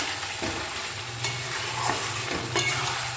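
A spoon scrapes and stirs chicken gravy sizzling in a pan, with a steady fry hiss under a few distinct scraping strokes at a slow, irregular pace, close by and without speech.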